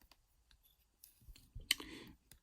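A multitool with knife, scissors, saw and screwdriver, plus a bottle opener and can opener, is handled up close; soft rustles lead to one sharp, bright click as a tool snaps open, then quiet.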